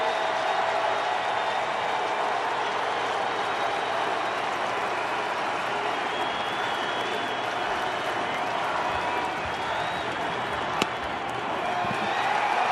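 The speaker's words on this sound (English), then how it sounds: "Now the crowd's into it here at American Family Field." Baseball crowd at American Family Field during a Braves versus Brewers game in the home ninth, a steady roar of cheering and clapping from a large stadium audience that holds throughout, with faint voices mixed in.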